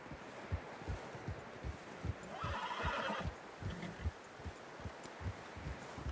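A horse in Red Dead Redemption 2 gives a short whinny partway through, between steady clip-clop hoofbeats of a walking horse, quiet and close.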